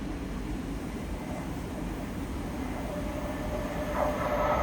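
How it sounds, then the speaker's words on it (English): LNER Azuma train passing through a station on the East Coast Main Line, a continuous rolling rumble of wheels on rail with a faint rising squeal near the end, moderately distant. "passing through now is an LNER Azuma en route from London King's Cross"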